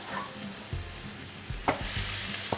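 Noodles sizzle and hiss in a hot pan with liver as they are stirred and tossed, with a few clinks of a utensil against the metal.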